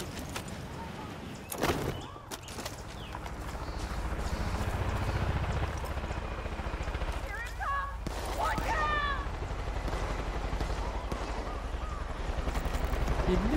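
Gunfire in the video game Far Cry 5, several sharp shots and bursts over a steady engine-like rumble, with a voice talking in between.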